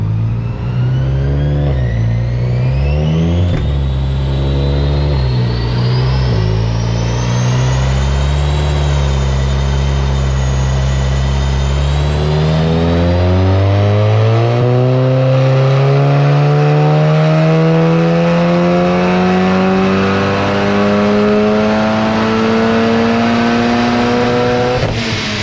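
A 600 bhp Mk7 VW Golf R engine revs hard on a dyno, its loud note climbing steadily through a long sustained pull with a few short lifts early on, with no talking.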